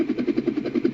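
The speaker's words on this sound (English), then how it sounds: "A helicopter?" Helicopter in the video game LiEat, a steady pulsing rotor chop with a low engine hum, heard alone at moderate loudness.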